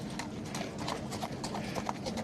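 Steady clip-clop of a horse's hooves trotting close by at the Badminton Horse Trials horse inspection, a quick regular rhythm of sharp knocks over a background hiss.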